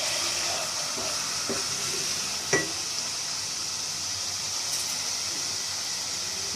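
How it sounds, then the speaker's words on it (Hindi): Chicken fries in a pan while cooking masala rice, a steady soft sizzle and hiss running throughout with a few faint clinks and one brief sharper tap. "अब मैंने इसको चिकन भून लिया, भूनूंगी अच्छी तरह"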